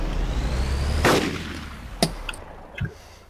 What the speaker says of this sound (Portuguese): Não se admirem quando ouvirem tiros da espingarda.